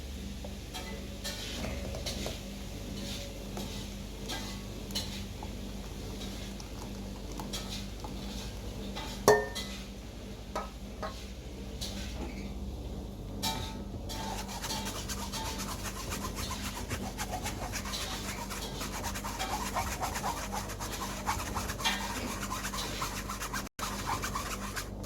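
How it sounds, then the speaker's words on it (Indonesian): Pumpkin layer pudding batter is strained through a metal sieve, with a steady soft scraping and rubbing against the mesh and bowl, broken by occasional light clinks of a utensil. "sekarang kita akan saring."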